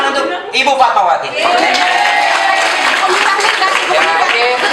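A crowd at an end-of-year gift exchange party claps for Ibu Fatmawati, with dense, steady applause mixed with chatter and laughter, close and loud.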